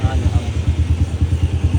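A motorcycle engine runs after a clutch plate change, thumping in a fast, regular pulse up close, with a voice talking over the loud, steady beat.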